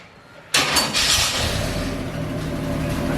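An old car engine cranks and fires abruptly, then settles into a loud, steady running rumble with a few early surges.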